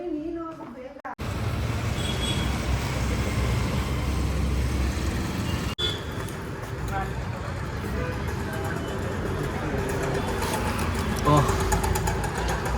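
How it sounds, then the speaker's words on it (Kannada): A vehicle engine runs steadily as it is driven slowly, a continuous low drone under nearby voices talking. "ಅವ್ನು ನಿಧಾನಕ್ಕೆ ಗಾಡಿ ಓಡಿಸ್ತಿರ್ತಾನೆ"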